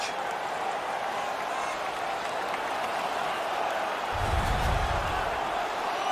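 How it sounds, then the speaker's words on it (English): A roaring hockey arena crowd cheers after a fight in NHL 19, a steady wash of noise that swells louder toward the end. "The crowd is ecstatic."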